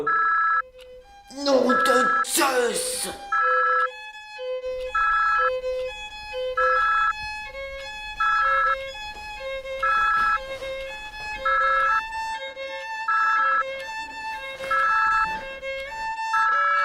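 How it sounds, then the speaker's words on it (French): A telephone rings in a French science-fiction short film: a bright, repeated electronic ring in regular bursts throughout, preceded by a loud exclaimed voice and music near the start. "C'était juste le téléphone."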